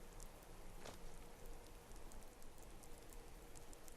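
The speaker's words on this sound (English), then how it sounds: "Alright, we have a little bit of rain." Rain in Skyrim SE falls as a steady, faint patter of drops with occasional sharper ticks, a continuous even wash with no voices.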